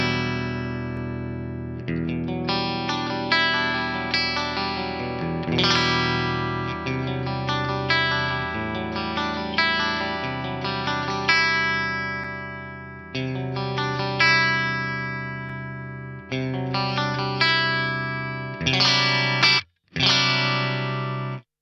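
A clean, dry electric guitar plays chiming chords and arpeggios through a dbx 160A rack compressor set to a 2:1 ratio, with ringing sustained notes, even dynamics and brief stops near the end.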